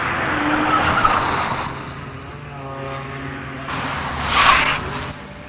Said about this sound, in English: If you do it just on the money, actually the right front tire will make more noise than the rest of the car.